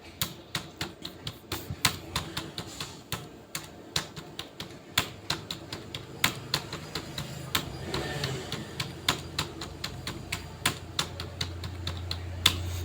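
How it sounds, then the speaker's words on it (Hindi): Someone types a school code into an Excel sheet on a computer keyboard: a close, steady run of crisp key clicks, some struck harder than others, over a low background hum, with no voices. "देखिए मैंने स्कूल का कोड टाइप कर दिया"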